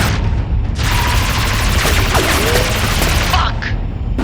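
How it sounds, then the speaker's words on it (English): Gunfire in the video game Star Citizen erupts in a loud continuous fusillade of rapid shots and booms, dense and close, with faint effects sweeping beneath and a quick trailing burst at the end. "They're gonna breach the hull with all that gunfire, sir."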